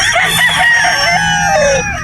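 A Sweater Gilmore gamefowl rooster on a Batangas game farm crows loudly and close, one drawn-out call with a falling tail, heard alone for about two seconds.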